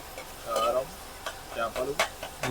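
Onions, green chillies, curry leaves and tomatoes fry in a pan for a small-fish curry in Vizag, with a soft sizzle and intermittent spoon-stirring scrapes while a voice talks over the cooking.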